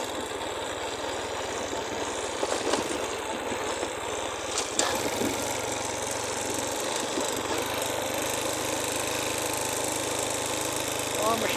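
A motorcycle engine runs at a steady, droning mid pitch as the bike rides down a long, steep dirt track toward a river, with rough vibration and a few sharp knocks over the ride.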